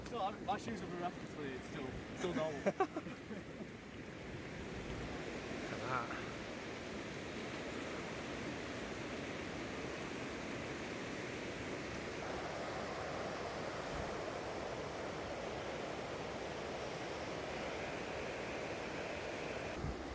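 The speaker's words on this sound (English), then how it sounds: "Walking through water and getting caught in the worsening rain." Rain falls steadily in Bishkek, Kyrgyzstan, as someone walks through water, giving a constant broadband wash of noise. It starts with a few louder splashy knocks in the first seconds, then settles into an even hiss.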